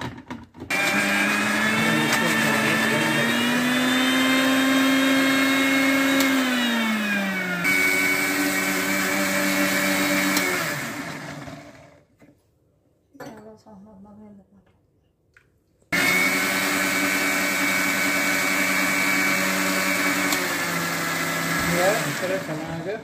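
A kitchen mixer grinder grinds grated coconut with two chillies, a loud steady motor whine running for about eleven seconds, stopping briefly, then starting again for the final stretch.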